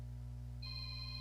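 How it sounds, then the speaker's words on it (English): A phone ringtone begins partway through, a steady electronic tone over a constant low hum, fairly faint. "My phone is ringing."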